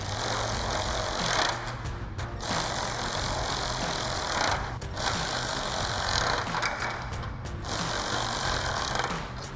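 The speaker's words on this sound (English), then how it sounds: "We'll grab our ratchet and 10mm socket and tighten those down." Ratchet with a 10mm socket tightening bolts on an aftermarket upper grille of a 2013-2018 RAM 1500, giving a steady, loud rattling whir near the mic with short pauses between runs.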